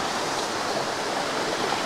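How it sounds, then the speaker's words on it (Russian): Water tumbling down the cascade of the Olginsky waterfalls in Abkhazia, where a small stream flows away below, makes a steady, dense roar. It is close and constant, with no voices over it. "Каскад водопада в ту сторону"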